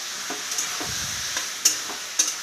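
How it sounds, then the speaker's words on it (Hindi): Vegetables frying in a pan with freshly ground spice paste: a low sizzle under brisk scrapes and two sharp clinks of a spoon stirring, no voices. "मसाला डाल के अच्छे से थोड़ा देर हम भून लेंगे सब्जी को।"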